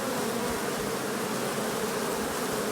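Honeybees buzz steadily near a hive in garrigue scrubland, a dense continuous drone of many wings as bees take off and fly close by, with no voices.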